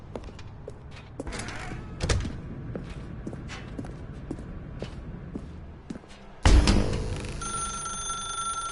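A telephone rings in The Stanley Parable amid footsteps and thumps, then a loud burst and a sustained electronic ring sound in the last couple of seconds, with no talking.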